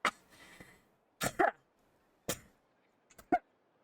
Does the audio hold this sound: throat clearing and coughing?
yes